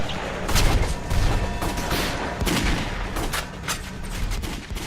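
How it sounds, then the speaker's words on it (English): Police open fire in a Halloween film scene, a rapid burst of repeated gunshots that blur into a dense, loud fusillade with booming echoes. "And then the police open fire."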